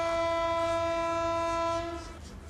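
A train horn sounds at a station platform in Mongolia, a steady loud multi-tone blast held for about two seconds before fading, with rail rumble underneath.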